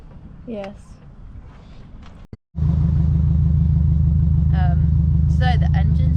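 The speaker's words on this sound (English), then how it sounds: "So the engine's running" A van's engine idles steadily in Córdoba, Argentina, a loud, even low rumble that starts abruptly after a brief silence and continues to the end, with a voice talking over the first part.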